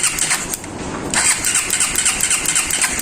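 A faulty motorcycle that will not start is cranked repeatedly, with a steady, rapid mechanical whirring and grinding from the starter, close and loud, broken by a brief pause near the start and then continuing without the engine firing.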